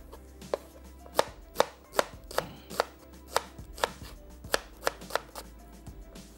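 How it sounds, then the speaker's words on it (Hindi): A food chopper works through onion and chilies with a rapid series of about a dozen sharp, crisp chopping clacks at a quick, fairly even pace, fairly faint over a low background hum. "एक एक करके हमने चॉपर मशीन में शामिल की।"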